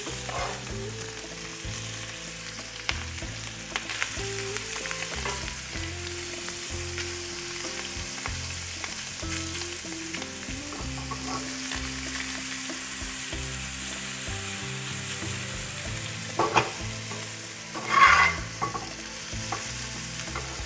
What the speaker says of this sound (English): You don't want it to be gummy, so just saute it like really fast.